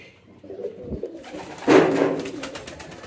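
Pet pigeons in a loft cooing softly, with low burbling calls building to a louder, fuller stretch of cooing in the second half.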